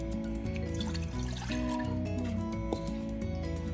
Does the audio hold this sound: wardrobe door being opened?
no